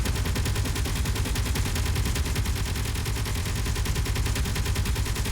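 Rapid video game gunfire in a dense, continuous burst of evenly spaced shots, loud and close, with no talking over it.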